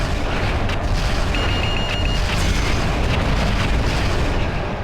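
Missile explosions in MechWarrior 4: Mercenaries, a steady loud rumbling wall of blasts and booms that stays close and continuous with no pauses, and no voices over it.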